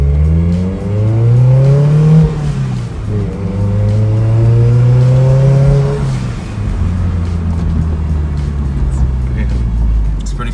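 A 1991 Toyota MR2 Turbo SW20 engine revs up and down in repeated sweeping pulls as the car is driven, loud and close from inside, with no talk over it.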